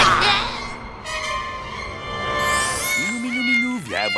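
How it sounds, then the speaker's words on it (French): A cat meows close by, with a couple of rising and falling cries near the end after a stretch of drawn-out vocal sound. "Petit minou."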